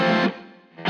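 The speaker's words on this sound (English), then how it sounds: "And that is how he gets his distortion, driving a bit harder the amp." A guitar amp is pushed into distortion by a booster. A loud, thick, driven chord rings out, fades briefly, then strikes again at full volume.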